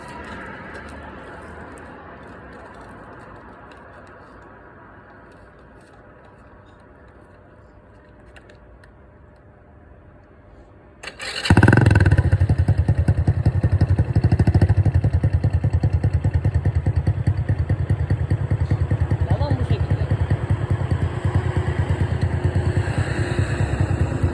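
A motorcycle engine is quiet at first with faint background noise, then the bike roars to life at close range and its exhaust runs loud and steady while riding.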